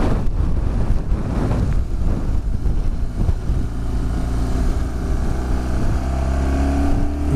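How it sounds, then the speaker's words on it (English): Strong wind buffeting the microphone with a low rumbling roar on a wet, windy day in Scotland during Storm Dennis, joined by a steady engine drone as the ride continues. "it's just like a normal, miserable, wet windy day in Scotland."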